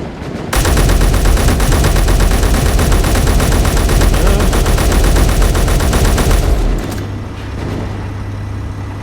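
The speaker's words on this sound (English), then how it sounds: "Oh, I do have a rapid fire rifle." A rapid-fire rifle in Space Engineers shoots a long, loud, unbroken automatic burst lasting several seconds, then cuts off to a low mechanical hum.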